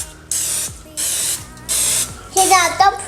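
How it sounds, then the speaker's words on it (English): Three short hissing bursts of cooking oil spray onto a muffin pan, evenly spaced, followed by a longer spurt with a voice chattering over it. "just going to spray it with cooking oil"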